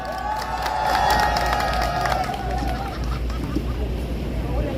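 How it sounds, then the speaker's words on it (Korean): An outdoor protest rally crowd at Daehanmun in Seoul, gathered against the medical crisis, claps and cheers loudly, with shouted cheers and whistle-like calls rising over the clapping early on before it settles into steady applause. "이 의료농단 사태에 한해서는 한번 박수를 쳐드리면 좋겠습니다"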